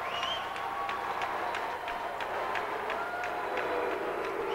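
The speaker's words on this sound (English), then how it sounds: "you hear the Minnesota fans, sounds like booing, but all they're saying is Luke, Luke, Luke, Luke" Minnesota fans at a Big Ten wrestling championship chant a wrestler's name as a steady, rhythmic crowd roar. The beats repeat evenly, sounding like sustained booing across the arena.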